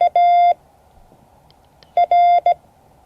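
Morse code beeps spelling Y-U-R, shorthand for 'your': a steady electronic tone keyed in short and long pulses, one group at the start and another near the end with a quiet pause between.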